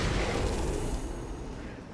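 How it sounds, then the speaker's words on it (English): In the Alan Wake video game, a flashbang goes off as a loud, broad burst that fills the mix at once, then slowly fades into a rumbling wash. "Like as soon as I throw one flashbang"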